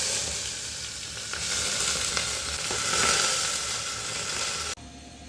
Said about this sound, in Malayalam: ഉള്ളി ഇടുകയാണ്.